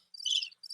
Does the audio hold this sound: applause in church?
no